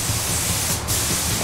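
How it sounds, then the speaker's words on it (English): Spray gun laying black paint over custom motorcycle parts, a loud, steady, close airy hiss that runs unbroken, with only a brief dip in the middle. "I'm going to spray black down first over all the parts"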